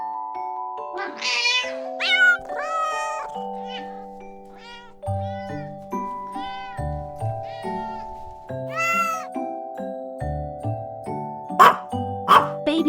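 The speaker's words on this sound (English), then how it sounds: "Cat." A cat meows several times in short, separate calls over a steady, bright musical backing, clear and up front.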